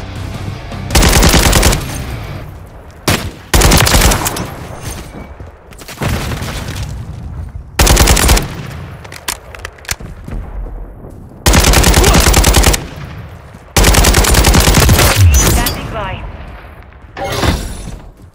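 Gunfire in a Call of Duty Modern Warfare III team deathmatch: loud bursts of automatic fire come in repeated volleys with short gaps, mixed with booms and in-game radio voices calling out.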